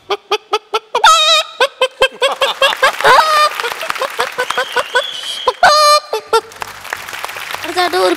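A performer vocally imitates a hen cackling after laying an egg on a stage comedy show, starting with short rhythmic clucks, then rising into loud, excited cackling bursts, with applause or crowd noise briefly beneath.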